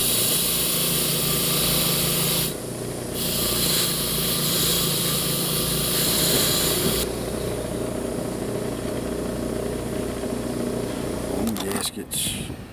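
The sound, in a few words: engine running after carburetor rebuild, being tuned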